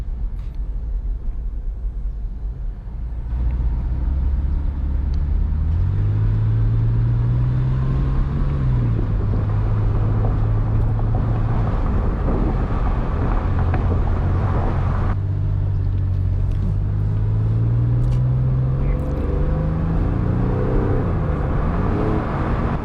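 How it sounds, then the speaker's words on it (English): A Porsche 911 engine revs while driving with the top down on a bumpy road, pitch rising and falling through repeated climbs toward high RPM, with steady road and wind rumble beneath. "It's so much fun to rev this car."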